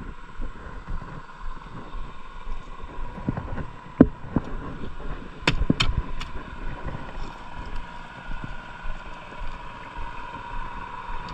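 Small fishing boats motoring out on a river, a low engine drone rising and falling under wind buffeting the microphone, with a few sharp knocks midway.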